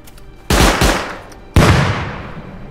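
Gunfire in the survival game Rust: a loud close shot, a quick second shot, then another sharp report about a second later with a long echoing tail.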